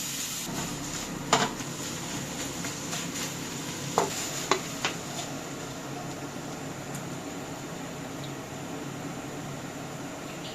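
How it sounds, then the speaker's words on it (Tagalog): Seafood and squid fry in a pan with a steady, hissing sizzle throughout, broken by a few short clinks and scrapes of a utensil against the pan. "Iprito or isote lang natin ang ating mga seafoods each for a little more than 2 minutes"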